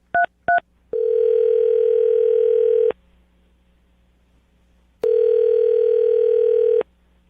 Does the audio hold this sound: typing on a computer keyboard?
no